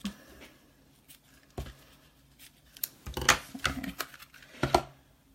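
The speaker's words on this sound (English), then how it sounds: "Scissors." Several crisp snips of scissors cutting watercolour paper with rustling paper sounds, close and moderately loud, arrive in an irregular cluster after a few isolated clicks.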